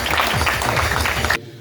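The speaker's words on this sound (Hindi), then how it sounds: "एक बार जोरदार ताली हो जाए इन सारे बच्चों के लिए।" An audience at a World Radio Day celebration applauds students with a burst of dense, lively clapping that stops abruptly after about a second and a half.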